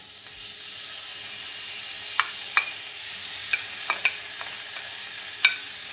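Ground beef for a samosa filling fries in a pan, giving a steady, fairly quiet sizzle broken by a few sharp spatula taps and clicks.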